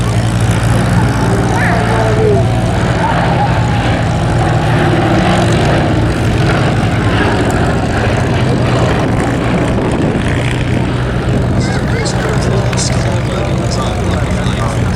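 A B-17G bomber taxis across grass at Duxford. Its radial propeller engines give a steady, loud, continuous drone that fills the whole stretch, with crowd voices mixed in underneath.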